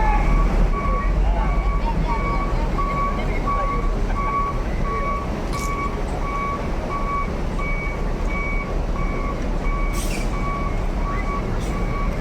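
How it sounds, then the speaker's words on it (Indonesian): A tourist bus reverses into a parking spot at a night terminal, its reversing alarm beeping in a steady, evenly spaced rhythm over constant engine rumble and hiss, with occasional sharp air-brake bursts. "Ini Parwis, bus pariwisata dimundurkan dulu untuk diatur letak parkirnya."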